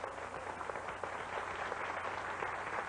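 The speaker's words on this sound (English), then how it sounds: "a little applause" A studio audience at a 1991 television talk show claps steadily, a dense wash of applause heard alone for a few seconds at moderate level.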